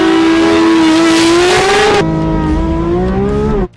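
A Porsche GT3 race car accelerates hard on track, its loud engine note climbing steadily, dropping briefly at a gear change, then rising again before cutting off abruptly.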